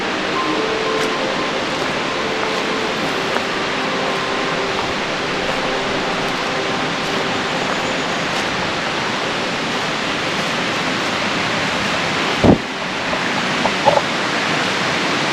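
Rushing water along a nature trail at Tank Creek Nature Preserve, a steady, unbroken wash of noise filling the scene, with a brief knock near the end.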